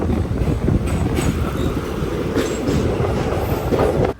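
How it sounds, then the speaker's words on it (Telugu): An Intercity Express train pulls into Nellore railway station, its steady loud rumble of wheels and carriages running continuously with faint clickety-clack and metallic squeal over the top until a sudden cut. "ఫైనల్లీ మన ట్రైన్ అయితే ఫస్ట్ స్టాప్గా నెల్లూరుకి వచ్చింది"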